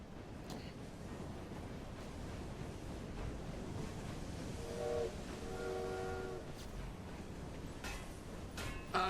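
A steam train in the Victorian London setting of the game Assassin's Creed Syndicate rumbles steadily throughout, with a brief tonal whistle-like sound near the middle and a few sharp clanks toward the end.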